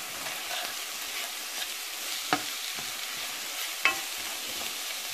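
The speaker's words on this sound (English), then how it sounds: "Stir that around." Salt and pepper being stirred through a cooked mixture in a pan before arborio rice goes in: soft, steady frying hiss with a few faint scrapes of the spoon, fairly quiet and close, no talking.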